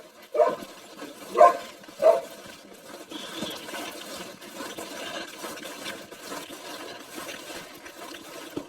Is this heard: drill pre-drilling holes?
no